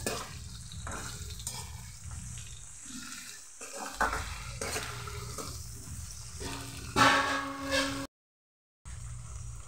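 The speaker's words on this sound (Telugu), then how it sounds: "పచ్చివాసన పోయేంత వరకు చక్కగా వేయించుకోవాలన్నమాట" Biryani vegetables, with potato soon to follow, frying and being stirred in a pan, a steady sizzle with scraping stir strokes that swell near the end before a brief gap of silence.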